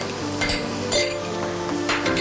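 Sliced garlic and ginger frying in a pan in a home kitchen: soft sizzling with a few metallic clinks and scrapes of a spoon against the pan, close by.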